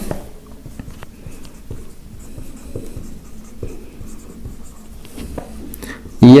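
Chalk or marker writing an income statement on a board, a steady scratchy scribbling texture with small taps throughout, close and moderately loud, with a sharp louder knock at the very end.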